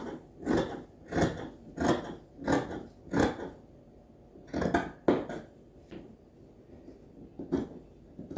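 Scissors snip through fabric for a nurse's uniform in a run of about six crisp, evenly spaced cuts, then a few scattered snips after a short pause, close and fairly loud.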